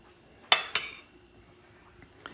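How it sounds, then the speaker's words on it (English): A spoon clinking against a dish while scooping red-eye gravy over a biscuit, two sharp metallic chinks close together, followed by a few faint taps. "you would spoon this over your biscuit"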